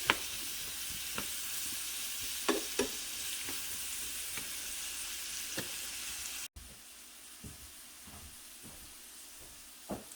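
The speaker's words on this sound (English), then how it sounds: "the onions are sizzling over there" Onions sizzle steadily in hot bacon grease, a constant crackling hiss with occasional sharper pops and stirring scrapes.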